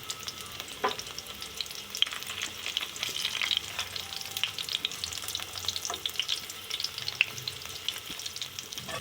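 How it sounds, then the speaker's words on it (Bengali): Stuffed bitter gourds frying in oil in a pan, a steady crackling sizzle with occasional sharper pops and the scrape of stirring, close and continuous with no voices. "এবারে এই উচ্ছেগুলোকে খুব ভালো করে তেলে ভেজে নেব।"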